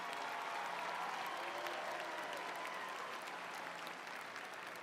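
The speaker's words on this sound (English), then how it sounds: "Now, let's give these students a round of applause" A high school commencement audience applauds the graduating class, a dense, even wash of many hands clapping from a large crowd, sustained and moderately distant for the whole stretch with no speech.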